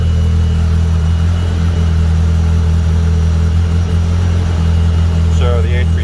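Warm Polaris RZR Pro R fitted with an entry-level turbo kit on a 91 pump gas tune, idling steadily with a loud, even, low drone throughout, close by, with a voice briefly cutting in near the end.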